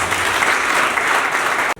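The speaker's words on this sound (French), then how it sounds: "vous voudrez accueillir par vos acclamations" Audience at an agricultural modernization event in Côte d'Ivoire applauding to welcome a speaker, a dense burst of clapping lasting under two seconds and cut off sharply.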